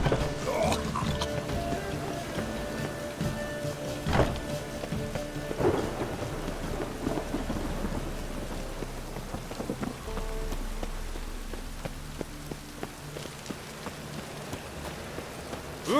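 Steady rain pours in The Witcher 3 video game, with rolling thunder cracks around 4 and 6 seconds and a low rumble underneath, continuous and fairly loud throughout.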